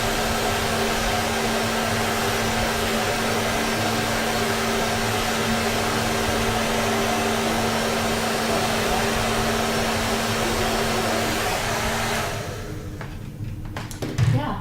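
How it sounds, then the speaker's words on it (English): A hair dryer blows steadily on wet watercolor paint, a loud, constant whooshing roar that holds for about twelve seconds before cutting off, leaving a quieter room with faint bumps. "If you want, you can blow dry it too, because then you can see the effects"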